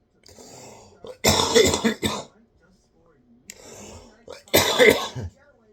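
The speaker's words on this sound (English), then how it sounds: "I got a smoker cough." Two harsh, raspy smoker's coughing fits, each preceded by a rough throat-clearing breath, loud and close with short silences between.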